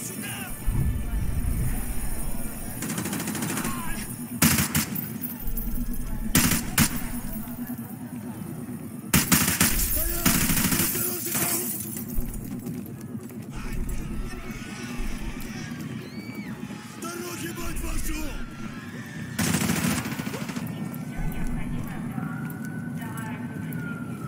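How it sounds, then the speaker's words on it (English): Gunfire in the Modern Warfare 2 video game, shots shattering display cases: several sharp, loud bursts spread across a dense, noisy game soundscape with siren-like wailing and constant background rumble. "I'm just shooting the displays."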